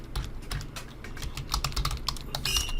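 Someone types on a computer keyboard, producing a quick, uneven patter of close key clicks with no voices for a few seconds.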